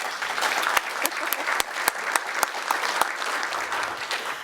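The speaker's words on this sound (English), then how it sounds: "Now you can applaud." Audience applause at a university president's address with a business crowd, sustained clapping from many people, with a few sharper, closer claps popping out above the steady wash, moderately loud throughout.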